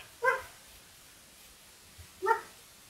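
A dog barks twice in the background, two short clear yips about two seconds apart, faint and distant, with quiet room noise in between and no talking.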